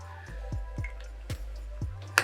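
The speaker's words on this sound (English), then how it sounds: "put a couple of drops of liquid on the sides and inside the coil" E-liquid dripped onto the coil of a Vandy Vape Kylin M AIO RBA pod: a handful of soft, separate close drips spaced irregularly in a quiet room, ending with a sharper tap.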